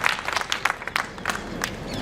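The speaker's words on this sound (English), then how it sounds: "So a round of applause for Tata Technologies" Audience applause at the Tata Technologies InnoVent 2024 innovation event, a dense burst of many hands clapping close by, steady and lively throughout with faint crowd noise underneath.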